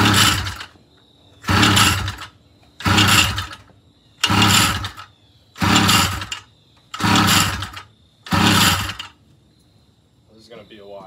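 A motorized bike engine fitted with a BBR Tuning exhaust is pull-started seven times, each rough, loud rasping pull about a second long with pauses between, and faint talk follows near the end.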